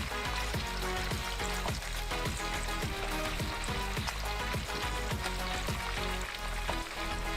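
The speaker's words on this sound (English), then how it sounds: "while you're frying the chicken" Loud, continuous sizzling and crackling of chicken frying in hot oil, with rapid popping spatters and no voices.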